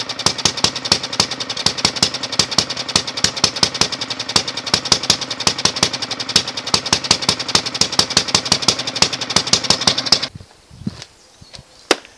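An old 1950s Briggs & Stratton engine runs with a fast, steady chugging beat close by, then cuts off abruptly near the end, leaving quiet.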